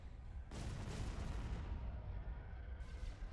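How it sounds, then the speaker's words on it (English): Heavy cannon fire in the Star Wars: Empire at War space battle, with TIE Hunter craft in the fight. A dense, continuous barrage of booming blasts rolls on loud and close with no pause. "Cannon firing."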